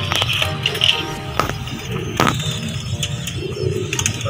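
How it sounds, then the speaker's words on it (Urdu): Soft cooing of Banga pigeons in Sialkot repeats through the clip amid a busy background of chirps, clicks and rustling, with a few sharp cracks standing out. "دوستو یہ بانگا کبوتر میں آپ کو دکھا رہا ہوں جو اصل بانگے کبوتر ہیں"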